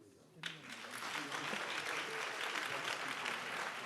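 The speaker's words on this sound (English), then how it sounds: "you should give yourself a huge round of applause" An audience at a youth summit breaks into applause after a brief quiet start, a broad wash of clapping that swells and holds steadily to the end.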